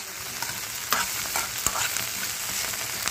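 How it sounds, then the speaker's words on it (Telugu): Okra (bendakaya) fries in a pan with a dense, steady sizzle, close and continuous, broken by a few faint stirring scrapes. "ఇలా ఫ్రై చేసేసుకోవాలి."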